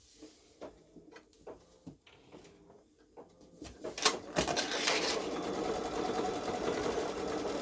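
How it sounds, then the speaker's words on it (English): A Babylock Solaris Vision sewing machine does edge-to-edge quilting on a Halloween gnome quilt, starting after scattered soft clicks and taps, then running steadily with a close, even mechanical whir. "So I stitch."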